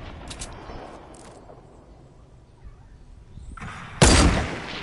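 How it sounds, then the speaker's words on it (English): Rockets fire and explode in a video game, with soft launches and distant rumbling building to one loud, close blast near the end that trails off in a rumble. "Jesus, how many rockets does this guy have?"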